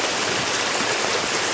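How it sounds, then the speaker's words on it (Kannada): A running stream gives a steady, dense rushing and gurgling of flowing water after rain. It sounds close and continuous and is heard alone. "ಯಾವ ರೀತಿ ನೀರು ಹೋಗ್ತಾ ಉಂಟು ನೋಡಿ"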